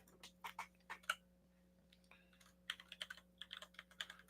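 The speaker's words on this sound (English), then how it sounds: "I'm going to type that in" Typing on a computer keyboard indoors, quick bursts of light clicking keystrokes separated by a short pause, close and faint over a low steady hum.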